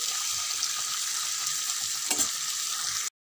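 Steady, continuous sizzling of onions frying in a pan, with a brief stirring scrape near the end before a short cut-off.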